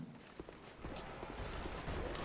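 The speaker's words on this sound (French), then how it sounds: "Cheval." Faint horse hooves clop in the dark fantasy game Dark Souls II: Scholar of the First Sin, a few soft, irregular steps low in a quiet background.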